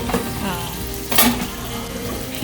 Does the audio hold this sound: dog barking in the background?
no